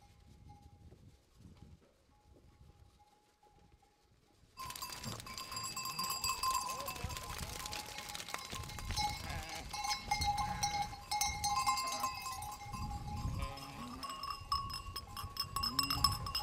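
A flock of sheep wearing bells grazes in an orchard, a steady jangle of clanking bells and bleats near and far, rising suddenly after a quiet start and continuing throughout.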